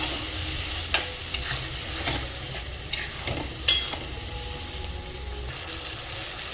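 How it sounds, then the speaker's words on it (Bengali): Shrimp sauté in a pan with chili and turmeric, giving a steady sizzle broken by occasional scraping stirs of a utensil against the pan, close and fairly loud, with no talking. "চিংড়ি মাছগুলো লঙ্কা হলুদ দেবো, দিলাম লঙ্কা, দিলাম হলুদ, ভালো করে কষবো।"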